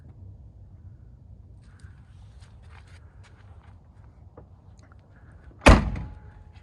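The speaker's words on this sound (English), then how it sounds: "Still got the ping when you close the doors" The door of a 1969 Porsche 912 shuts once with a sharp, close slam and a faint metallic ring afterward, following several seconds of quiet low background noise with light handling sounds.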